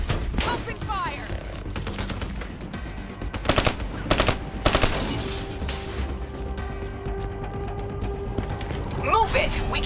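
Rapid bursts of machine gun fire ring out in Call of Duty Black Ops 3, mixed with shattering impacts and mechanical clatter over a busy battlefield soundtrack, with several sharp clusters of shots through the middle.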